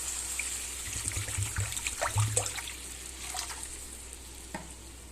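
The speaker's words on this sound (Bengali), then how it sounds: "এবার আমি অ্যাড করছি জল।" Water poured into hot spiced oil for a Bengali chital fish curry hisses and sizzles with trickling and stirring, a soft, steady kitchen sound with scattered clinks and no talk.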